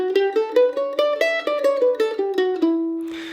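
A mandolin picks the E Dorian scale one note at a time, about a dozen bright plucked notes stepping up in an even rhythm and settling on a final held note, played close and clear with no voice.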